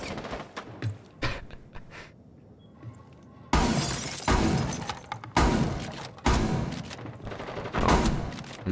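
Shotgun blasts from Rainbow Six Siege gameplay crack out as loud, broadband bursts, several heavy shots in quick succession after a quieter stretch of scattered game noises, with a harsh shattering edge.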